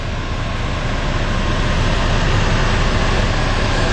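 A 2011 Ford Edge Sport idles with a steady, unbroken engine drone and broad rumbling noise, constant and loud throughout with no talking.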